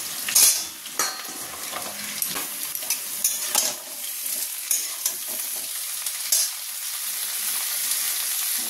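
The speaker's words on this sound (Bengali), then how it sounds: "এই যে আলুগুলো হালকা করে ভাজা হয়ে গেছে সব, এরপর বাকি সবজিগুলো দিয়ে দেবো, ডাঁটা আর ঝিঙেটা" Lightly fried potatoes sizzle in a pan as stems and ridge gourd are added. Close, steady frying hiss with a cluster of spoon scrapes and knocks early on that thins toward the end.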